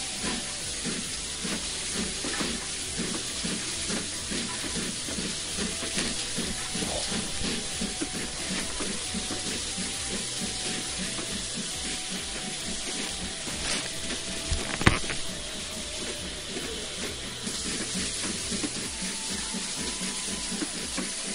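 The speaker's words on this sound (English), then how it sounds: "One of my favourite steam locomotives." A steam locomotive in the Train Sim video game, run at a steam gala, hisses steadily with a rhythmic chuffing pulse under continuous steam noise and a brief sharp clank partway through, without any talking.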